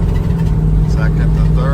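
A 1985 Chevrolet Blazer's engine shifting from first to second gear while driving, with a loud, steady low rumble close by and a brief change in pitch.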